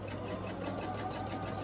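A sewing machine runs continuously while stitching quilt seams, a close, steady mechanical whir with no pauses or talking.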